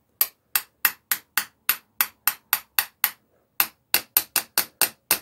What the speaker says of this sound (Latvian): Ar āmurīti uzsitīs virsū.